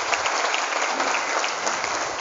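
Dense, steady applause from a large school audience at a national heroes day event, an even roar of many hands clapping together throughout.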